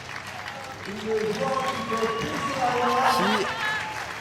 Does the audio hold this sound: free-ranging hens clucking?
no